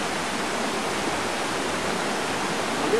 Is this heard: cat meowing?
no